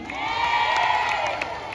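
A crowd at a political grand rally in Kidapawan cheers and claps, a steady loud roar of voices with scattered whoops and applause running throughout.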